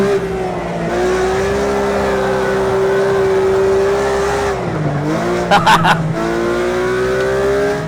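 A Porsche GT3 RS engine drifting in a racing video game, Project CARS 2 or Assetto Corsa: a loud sustained engine drone with pitch shifting as the car slides, a dip and brief tire-squeal bursts midway, continuous throughout.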